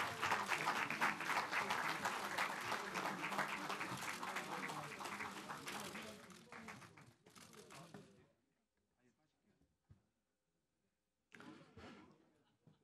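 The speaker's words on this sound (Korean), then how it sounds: "뜨거운 박수 부탁드립니다." Applause fills a party hall as candidates for floor leader of the Democratic Party enter, a dense round of clapping that breaks off around eight seconds, then near-silence, a brief renewed burst and a faint voice.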